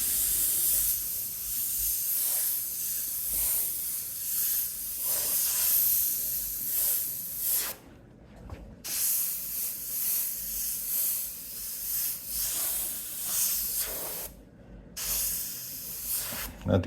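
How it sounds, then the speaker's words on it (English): An airbrush spraying paint produces a steady, close hiss that runs in long bursts, cutting out briefly twice before starting again. "My airbrush could be working a little better than it is."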